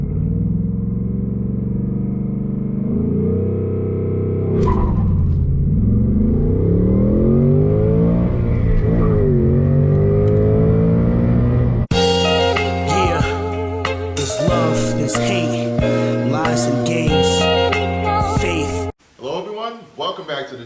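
A 2024 Ford Mustang GT S650 with a manual gearbox revs with rev match, its engine note sweeping up and down loudly, then giving way to sharper, busier sounds near the end while a person talks.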